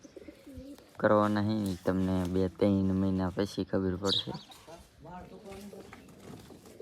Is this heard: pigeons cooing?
yes